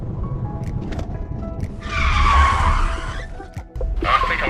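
Voyah Free EREV hybrid SUV (2024) launching from standstill in a 0-100 km/h acceleration run, a loud surging whoosh of road and tire noise that swells and fades, followed by another burst.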